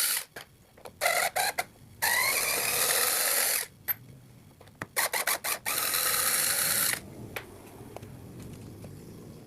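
A power screwdriver whirs in repeated short bursts and longer runs, close and loud, backing screws out of a panel on a Polytron washing machine that will not spin. No one talks.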